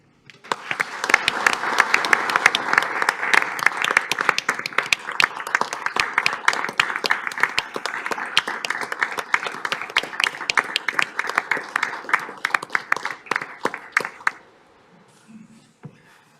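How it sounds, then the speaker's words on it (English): At a city council meeting, the room gives a sustained round of applause for three recognized city employees, with dense crowd clapping for about fourteen seconds before it stops abruptly and leaves faint room noise. "give one last round of applause to all 3 of our employees who were recognized tonight"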